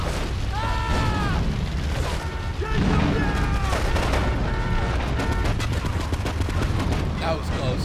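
Gunfire in the video game GTA 3 cracks in quick, repeated shots across a busy, dense mix of combat noise, with voices talking over it and whistling tones drifting through.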